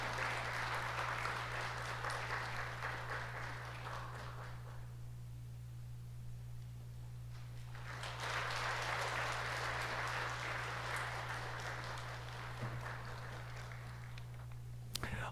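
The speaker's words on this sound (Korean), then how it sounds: "여러분 큰 박수 보내주시기 바랍니다." Congregation applause at a Sunday church service award presentation, a long steady roar of clapping that fades out around five seconds, pauses, then swells again, with a constant low hum underneath.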